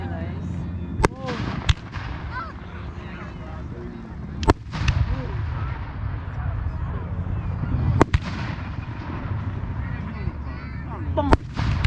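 Fireworks at a golf club show bursting in the open air, several sharp booming blasts spaced a few seconds apart over a constant rumble of crowd noise and distant crackle, loud and echoing.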